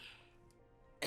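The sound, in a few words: coughing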